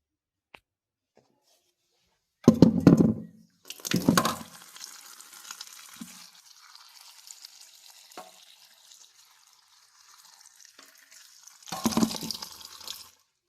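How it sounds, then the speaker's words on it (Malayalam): Water poured into a hot pan of fresh greens gives a loud burst of sizzling and splashing, then a steady softer hiss of steam and bubbling, with a second loud splash and sizzle near the end. "ഇത് വെള്ളം ഒഴിച്ച് അടപ്പേ വയ്ക്കാം."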